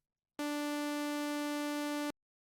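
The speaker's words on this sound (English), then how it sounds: "It's basically a normal saw wave." An analog saw-wave preset on a Logic ES2 software synthesizer plays one steady, bright, buzzy sustained note for just under two seconds, alone, starting and stopping abruptly.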